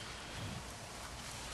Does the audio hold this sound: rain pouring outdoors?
yes